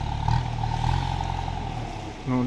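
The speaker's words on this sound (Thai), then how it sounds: "ก็ใช้รถไถนะครับ ดันดินให้ออก" Farm tractor pushing landslide soil off a flooded road, its engine a steady loud mid-range drone with a deep low hum, revving slightly before a brief shift near the end.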